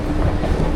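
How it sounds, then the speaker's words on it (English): Steady loud rumble of a train ride in Rio de Janeiro, heading toward Centro, a continuous close rail noise throughout the very short moment. "About to hop on this train now and get out to make my way down to Centro."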